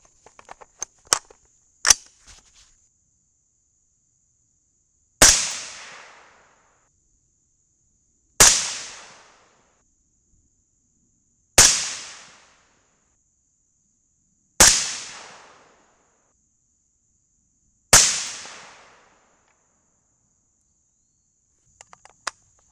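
Five loud, sharp rifle shots from .223 loads fired with Winchester primers, spaced about three seconds apart, each with a short decaying echo, preceded by a few faint clicks.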